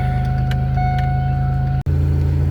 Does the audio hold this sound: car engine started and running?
yes